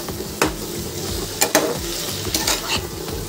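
Boiled ridge gourd being stirred and sautéed with fried onions in a pan for a lightly spiced Bengali chichinga ghonto, with steady sizzling and sharp scraping clicks of a spatula against the pan.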